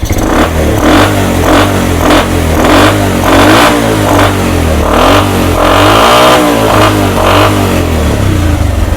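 A motorcycle engine with a freshly adjusted carburetor revs repeatedly as the throttle is twisted, loud and close, with rhythmic bursts of rising pitch over a low idling rumble and some mechanical clatter.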